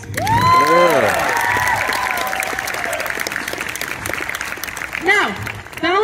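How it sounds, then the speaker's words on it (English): A college crowd at a hypnosis show at Occidental College in Los Angeles bursts into loud, sustained applause and cheering, with whoops and shouting voices rising over the clapping early on and again near the end. "Give them a big round of applause."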